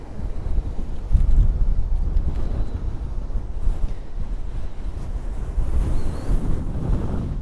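Strong Hurricane Erin wind roars steadily across the beach at Wildwood and Cape May, with heavy surf crashing underneath and gusts buffeting the microphone in a dense, continuous rumble.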